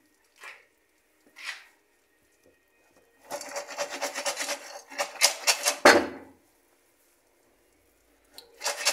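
Pot of buttered popcorn with salt shaken on the stove, two short rattles followed by a longer burst of rapid shaking and scraping, then another brief shake, close and fairly loud.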